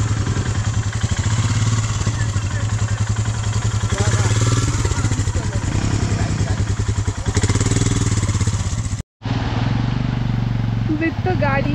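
A Royal Enfield Himalayan 450 motorcycle engine revs hard beside a waterfall after the bike tipped into water. A loud, steady drone sits under people talking and cuts out briefly near the end.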